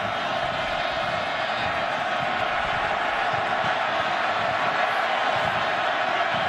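A roaring crowd of more than 58,000 in a football stadium during a late-season Oklahoma at Oklahoma State night game, a dense, constant, distant roar with no breaks, causing a delay of game.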